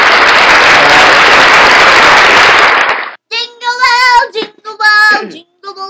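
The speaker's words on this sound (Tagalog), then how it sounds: "Isang palakpak naman siya." A crowd applauds loudly and steadily for about three seconds during a casual Christmas livestream, then the clapping stops abruptly and excited voices follow.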